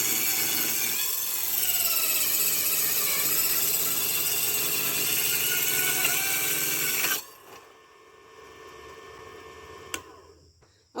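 A mini table saw cutting wood roars loudly and steadily for about seven seconds, then cuts out abruptly, leaving a faint spin-down hum and a couple of small knocks close by.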